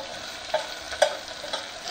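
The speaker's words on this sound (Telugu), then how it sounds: "ముందుగానే కడిగి శుభ్రం పెట్టుకున్న చికెన్ వేసుకుందాం." Chicken pieces fry in hot oil with a soft steady sizzle, broken by three or four distinct scraping stirs of a spoon against the pan, fairly quiet and close with no talking.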